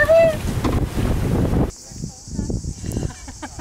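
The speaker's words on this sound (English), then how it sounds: "It's very windy." Strong wind buffets a sailboat at Pylos, Greece, a loud low roar of gusts across the microphone that suddenly drops to a quieter rustle with scattered knocks and creaks.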